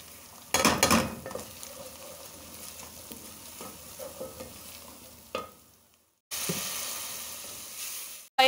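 Arvi leaf rolls frying in hot oil, a bubbling sizzle with a loud burst near the start, quieter crackling in the middle, a brief gap of silence, then a strong steady hiss returning.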